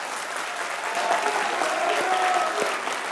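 Studio audience at a Pakistani comedy talk show clapping together, a broad steady wash of applause filling the whole stretch at even volume, with faint voices or whoops mixed in.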